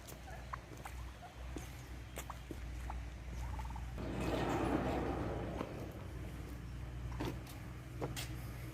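Chickens on an aquaponics farm cluck and gobble in scattered bursts over a steady low hum, with a louder stretch of mixed farmyard noise midway; the birds sound moderately close.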